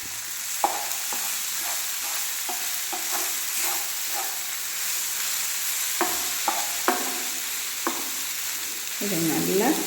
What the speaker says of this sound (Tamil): இதை நல்லா எல்லா இடத்துலையும் படுற மாதிரி கலந்து கொடுங்க.